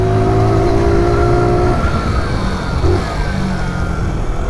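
A Zontes Monster 125 motorcycle engine is held at steady revs, a loud continuous drone with a rising tone that fades midway, heard close and alone.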